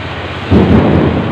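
Thunder rumbles during heavy afternoon rain: a short, loud low roll breaks in over a constant dense hiss of downpour, close and full, with no talking.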